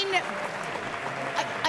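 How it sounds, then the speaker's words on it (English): Applause for race winner Jose Serrano at a Toyota Gazoo Racing GT Cup grand final, a continuous, moderate patter of clapping with a few sharper claps standing out. "Jose, let's give a big round of applause"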